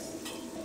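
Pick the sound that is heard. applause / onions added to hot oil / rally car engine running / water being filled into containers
onions added to hot oil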